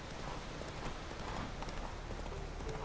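Roach, a horse in The Witcher 3, gallops with a steady, rapid clip-clop of hooves over a faint background hum, with no voices.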